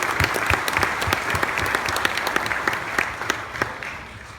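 Audience at an awards dinner breaks into applause, dense continuous clapping from many hands filling the room evenly, close and steady throughout without a break.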